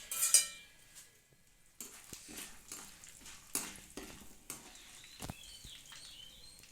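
Spices for tempering dropped into hot oil in a pan for curry leaf rice, giving a soft sizzle with intermittent stirring scrapes and light clinks of a utensil, close and fairly quiet.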